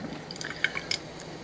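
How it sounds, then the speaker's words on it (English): Coffee drips from a basic standard drip coffee maker into its pot, a few soft separate drops landing close by over a low steady hiss. "this is one of those basic standard coffee machines that if you remove the pot, it's supposed to stop dripping"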